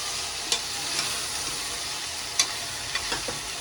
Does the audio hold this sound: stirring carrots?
yes